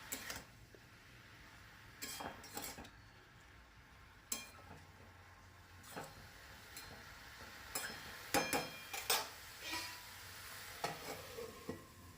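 Salted brinjal slices frying in a pan as a spatula stirs and scrapes, with soft sizzling under a run of irregular metallic clinks and scrapes that grow busier toward the end.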